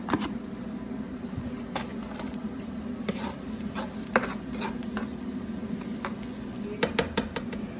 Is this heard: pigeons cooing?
no